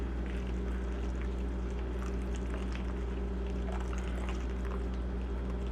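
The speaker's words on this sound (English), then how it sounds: "So when it gets lumpy like this is when I start to add the water." Water is poured into a lumpy potato mix for a fruit fly culture, a continuous, even splashing trickle that runs steadily without pause, fairly quiet and close.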